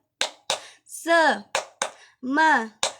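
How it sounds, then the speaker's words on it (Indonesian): A primary school class does a rhythmic spirit clap: sharp, close hand claps in short groups alternate with drawn-out chanted syllables from the children's voices. "alangkah baiknya kita tepuk semangat"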